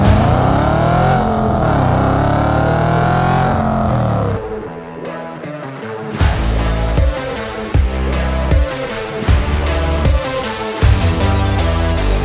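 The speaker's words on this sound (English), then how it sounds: "just because of its look and the way the car sounded, that V8" An Audi RS4 V8 engine revs loudly and close, first in a long rising and falling drone, then after a short drop in a series of sharp throttle blips. No one speaks.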